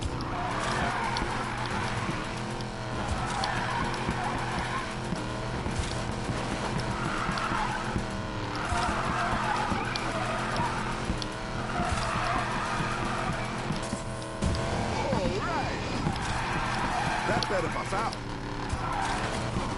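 In the racing game Need for Speed: Payback, a car slides on its e-brake, with repeated loud tire squeals and skids over a revving engine as a player talks over the action.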